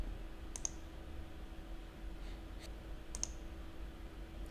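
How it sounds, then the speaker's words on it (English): A few sharp computer mouse clicks, spaced apart and close by, over a steady low electrical hum in a quiet room. "and then click Delete Selected"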